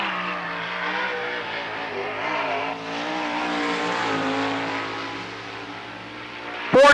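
A sprint car at Lernerville Speedway roars through a qualifying lap in 1994, its engine a loud, sustained drone whose pitch rises and falls through the corners, ending in a sharp burst at the close.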